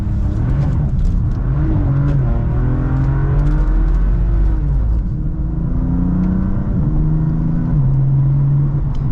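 A 2020 BMW M4 CS pulls hard under acceleration, a deep turbocharged drone heard from inside the car that climbs steadily in pitch through the gears, loud and continuous.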